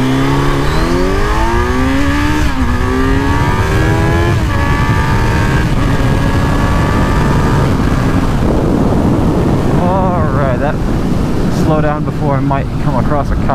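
A 2018 Kawasaki Z900 motorcycle accelerates hard through several rising gear pulls toward 100 mph, engine roaring loud and close over heavy wind noise, with a voice talking near the end.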